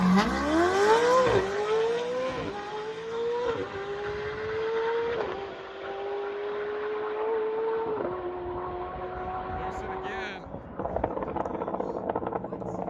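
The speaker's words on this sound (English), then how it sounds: "We're gonna try and race this monster Lucid Air Sapphire." A Lucid Air Sapphire and a Dodge Demon 170 drag race, with a rising whine through several gear-like steps, loud and close, then a sharp change as the cars pass and fade, with faint voices underneath.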